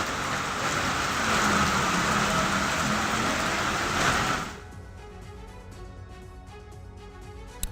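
Dense, steady heavy rainfall in Bharatpur, Rajasthan, roars loudly for several seconds, then cuts to a much quieter patter with scattered drips.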